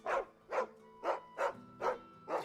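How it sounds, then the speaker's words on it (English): Six evenly spaced dog barks from a neglected, feral-looking dog in Final Fantasy XVI, each a short whimpering yelp with a tonal edge, close and fairly loud, with no talk over them. "that dog does not look well taken care of"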